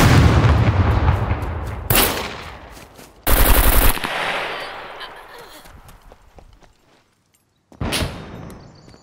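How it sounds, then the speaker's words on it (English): Gunfire in the survival shooter Scum during a PvP event: a loud rattling burst fades away, then sharp sniper-like blasts and another heavy volley follow, with a tense pause between them. "Oh, someone's trying to snipe me."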